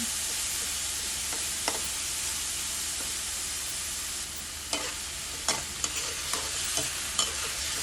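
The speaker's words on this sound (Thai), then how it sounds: "ผัดแหนมให้สุกเลยค่ะ" Naem, a sour fermented pork, stir-fried in a pan for pad kaprao: a steady loud sizzle throughout, with a few sharp scrapes and clacks of the spatula in the second half.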